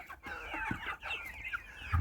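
Young Zozulya hens clucking nearby in a barn, a steady run of short chattering clucks and calls with no talking.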